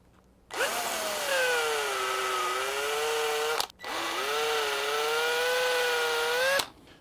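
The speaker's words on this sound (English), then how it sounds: "I'm going to drill it out to 17/64" A power drill whines loudly in two sustained bursts of about three seconds each, boring a 17/64 hole in a wooden woodturning tool handle, its pitch dipping slightly as it bites, with a brief pause between.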